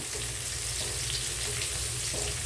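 Dried red chillies with crushed garlic, mustard and cumin frying in hot oil, giving a steady close sizzle and crackle that holds evenly throughout with a few faint clinks, no talk.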